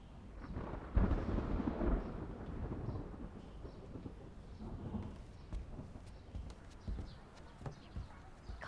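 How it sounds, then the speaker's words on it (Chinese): Sudden thunder breaks over a period drama scene with a loud rumbling onset near the start, then fades into lower rolling rumbles and scattered crackles, heard alone without talk. "这忽然又打雷了。"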